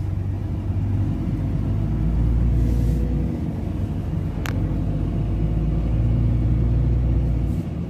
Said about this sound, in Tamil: வண்டி கிளம்பி விட்டுறது.